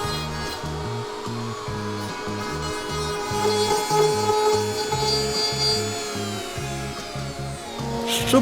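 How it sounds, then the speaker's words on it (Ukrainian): A high-pitched rotary tool whines steadily while grinding and smoothing a plastic part of a 1981 Karpaty moped, with a rhythmic pulsing low hum underneath, loud and close throughout. "Після паяльника в роботу йде бормашина."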